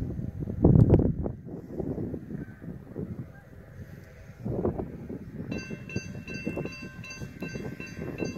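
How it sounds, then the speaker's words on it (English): A train on the high-speed line at Girard, Illinois, rumbling past with rhythmic clatter of wagons, a louder swell early and again later, and a high ringing tone joining near the end. "This is a train coming right now."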